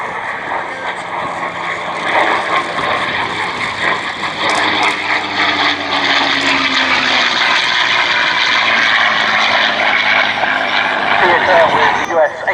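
Merlin-powered P-51 Mustang prototype-era fighter at the Abingdon Airshow, giving a steady, loud, sustained engine roar throughout, with a commentator talking over it.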